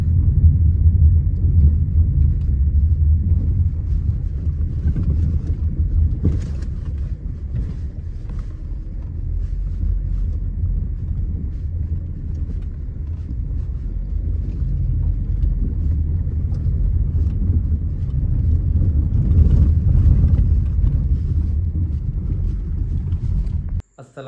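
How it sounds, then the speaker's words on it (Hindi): A 2016 Honda Civic with worn front suspension rolls along, steady low road rumble and engine drone filling the cabin, with faint knocks and thumps scattered through the drive and no talking. "अभी मैं गाड़ी की सस्पेंशन की आवाज़ें आपको डिटेल में सुनाता भी हूँ कि सस्पेंशन की आवाज़ कैसी है"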